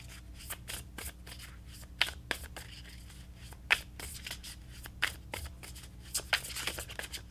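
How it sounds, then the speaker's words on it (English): Tarot cards are shuffled by hand for a reading, giving a quiet, close run of soft riffling bursts and sharp card snaps repeating irregularly with no talking. "let's pull you an overall guidance card looking at the rest of September"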